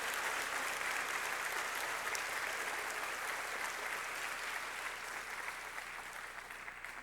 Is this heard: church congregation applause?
yes